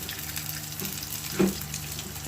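Garlic frying in a pan for a simple tomato sambal, a steady soft sizzle close by with a light scrape or stir partway through, and no speech.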